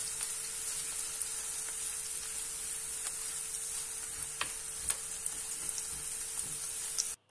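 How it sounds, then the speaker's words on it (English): Onions sauté in hot olive oil in a pan over medium heat, a steady close sizzle with occasional light clicks of stirring, no voices, ending abruptly. "Once the oil is hot, add in the onions."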